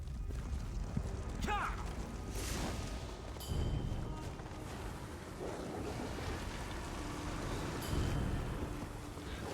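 Horse hooves clip-clopping on a road in the video game The Elder Scrolls Online, a steady rhythmic trot at moderate distance with occasional thumps and ambient game sounds.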